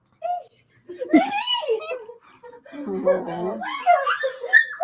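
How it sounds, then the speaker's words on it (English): A lost dog, just reunited with its owner, whines and cries excitedly in high, wavering yelps and whimpers, close by, with people's voices mixed in. "Lost doggy screaming with joy after being reunited with its owner"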